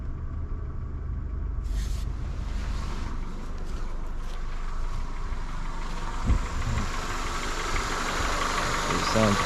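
A 1999 Honda Accord engine with a cylinder 3 misfire idles nearby in a steady, low, slightly uneven rumble, with faint voices at times.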